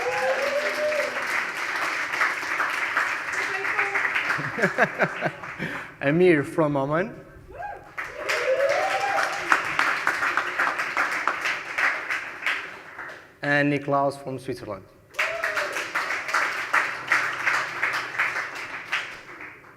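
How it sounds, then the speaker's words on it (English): Applause from an audience at a coding bootcamp demo day rises through much of the stretch, with brief pauses while a presenter introduces team members over a microphone. "An applause for them, please."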